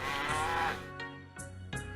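A cow lows in the Journeyman Project 3 video game, one long drawn-out moo followed by two shorter grunting calls, clear and fairly close, with no talking.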